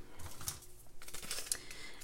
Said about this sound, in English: I got a pearlized doily and I'm just gonna cut it in half